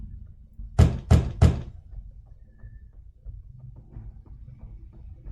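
Three quick, firm knocks on a wooden door in the video game The Wolf Among Us, close and distinct, followed by a quiet room tone.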